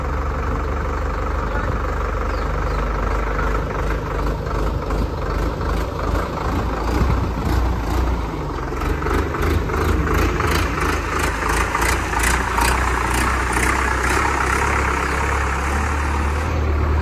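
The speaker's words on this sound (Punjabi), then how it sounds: "ਬਾਕੀ ਤੁਸੀਂ ਆਵਾਜ਼ ਚੈੱਕ ਕਰੋ, ਐਨ ਪੱਧਰੀ ਇੱਕ ਲੈ ਪਰ ਇੰਜਣ ਚੱਲ ਰਿਹਾ" A Swaraj 855 four-cylinder diesel tractor engine idles steadily for the whole stretch, a loud, close, even rumble with no talk over it.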